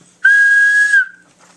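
A single loud, clear whistle blast, steady and sustained for nearly a second before tailing off, with no talking.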